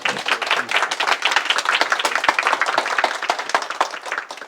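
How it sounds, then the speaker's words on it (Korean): Welcoming applause from a seminar audience at a university brown-bag lecture, individual claps distinctly audible in a lively, moderately sized clatter that thins slightly near the end. "큰 박수로 여러분들 웰컴."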